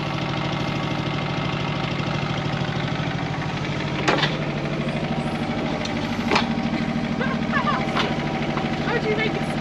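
A small digger's engine runs steadily nearby with a chugging, knocking rumble that rises under load, with occasional clanks heard alongside.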